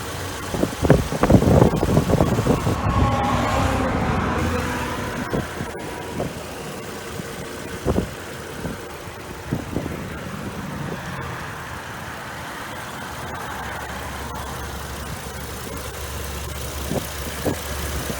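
A 2006 Chevy Trailblazer's 4.2-liter V6 idles steadily nearby, a low rumble with a few louder revs early on before settling into a quiet, even hum.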